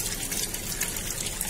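Water is poured into a pot of potato curry cooked in mustard masala, a steady, close splashing and gushing that continues throughout with no voice.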